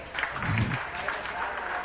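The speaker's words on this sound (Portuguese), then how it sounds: "é da pastora Ludmila, uma salva de palmas." A church congregation clapping steadily during a worship service, a continuous wash of many hands with a brief low voice near the start.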